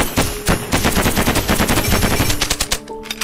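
A paint gun fires in the Miniworld video game: a rapid, continuous burst of loud, closely spaced shots rattles on for about three seconds before thinning into a few scattered pops.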